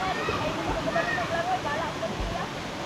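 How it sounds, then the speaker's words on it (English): Tula Tula Falls, a hidden waterfall in the Philippines, gives a steady, close, broadband roar of falling water with no pauses, and voices may sit faintly over it. "we've made it to the waterfall and look at that view"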